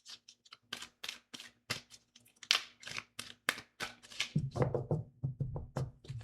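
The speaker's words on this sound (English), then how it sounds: "Give me 3 more shuffles." Tarot cards are shuffled by hand in a quiet room, a run of soft, quick riffling snaps and taps close up, growing busier and denser toward the end.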